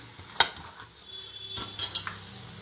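Sliced onions fry in a pan while being stirred, a soft sizzle broken by a few sharp scrapes and clinks of the spoon against the metal.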